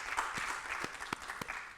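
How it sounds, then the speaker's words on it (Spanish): A small group at a medical talk and debate claps softly and sparsely. The handclaps are distinct and spaced unevenly at a low, fairly distant level. "Con ese mismo criterio pido un aplauso para Isabel."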